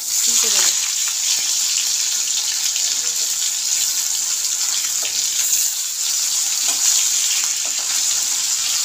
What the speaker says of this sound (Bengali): এইভাবে আমি সবগুলো মাছ ভেজে নেব।